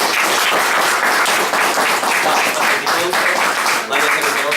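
Crowd at a LAN party award ceremony clapping for a diploma winner, loud, dense and sustained applause filling the room close up with no break.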